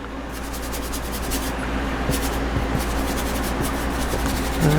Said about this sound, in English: I'm going to scrub it in there.